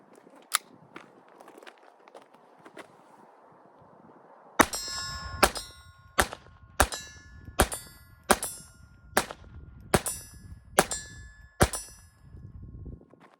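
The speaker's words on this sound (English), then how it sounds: "We're going to shoot some steel downrange and have some fun with it." A Smith & Wesson 422 .22 LR handgun fires ten shots in quick, even succession at steel targets, each crack followed by a bright metallic ring. A few faint distant pops come first, and no one speaks.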